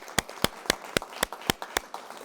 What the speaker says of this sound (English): round of applause for our experts here